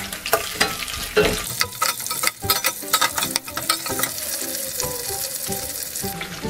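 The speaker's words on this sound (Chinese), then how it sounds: "翻炒它，把它炒香。" Star anise and Sichuan peppercorns stir-fry in hot oil in a wok: a continuous close sizzle broken by rapid scraping and tossing strokes of the spatula.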